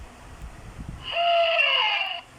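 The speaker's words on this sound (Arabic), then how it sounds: "صوت بومة، نسمع صوته" An owl hoots in a played recording: a clear, sustained tonal call rises in the middle and holds for about a second before cutting off, alone against faint background noise.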